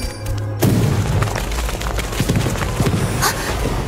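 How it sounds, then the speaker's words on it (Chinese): Gunfire rings out in an animated apocalyptic drama about monsters: a loud, sudden bang followed by a rapid series of sharp, echoing shots and impacts, with no talk. "是枪声"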